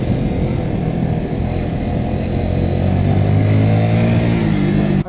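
A 2020 Kawasaki W175 SE motorcycle rides laps around a playground lot, its engine droning steadily and loud throughout, with rising and falling revs as it accelerates, close to the listener and with no talk.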